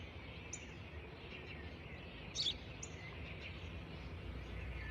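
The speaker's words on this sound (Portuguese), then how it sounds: "aquilo é um pássaro" A bird gives a few short, high chirps, with one brief louder burst near the middle, set against a steady outdoor hiss and low rumble, with no voices.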